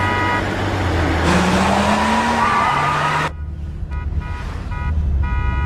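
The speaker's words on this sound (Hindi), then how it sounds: "ये कौन पागलों की जैसे चला रहा है गाड़ी?" A car driven recklessly with its engine roaring and tyres skidding, loud and close, the screech rising in pitch before cutting off abruptly into a quieter idle.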